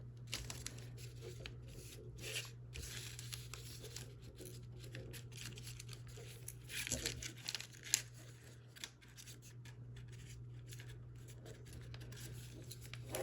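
Paper being folded into an origami human figurine, with soft close crinkling, rubbing and creasing sounds in irregular bursts over a steady low hum.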